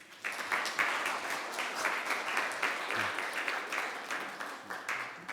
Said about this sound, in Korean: 오늘 목사님 나오셔서 또 귀한 말씀 전하실 때 큰 박수로 환영해 주시면